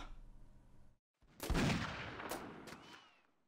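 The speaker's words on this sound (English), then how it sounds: "There's definitely someone is shooting over there." A single loud gunshot with a long, rolling echo in Mount and Blade Warband's 1860s Old America mod, followed by a few fainter distant shots, heard alone without talk.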